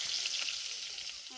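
Bay leaf and chopped onion fry in hot oil for a chicken curry, giving a steady, close sizzle with a bright hiss and no clear break.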